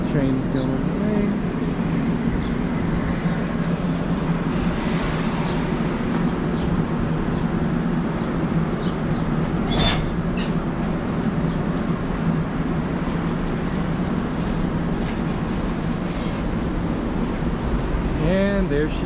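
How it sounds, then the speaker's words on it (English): A New Jersey Transit commuter train rumbles away from Middletown station with a broad low roar and heavy wind buffeting, a brief high squeal partway through, and a voice talking under the noise. "Trains going away."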